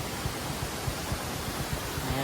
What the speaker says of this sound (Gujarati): ઉપરથી પાણી આવે છે